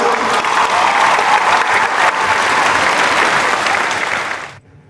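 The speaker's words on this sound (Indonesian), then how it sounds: "beri tepuk tangan untuk kita semua" Loud sustained applause from a group in a lecture or seminar session, a thick continuous roar of clapping that holds steady and then cuts off abruptly near the end.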